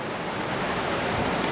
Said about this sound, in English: we're literally walking on the river, George.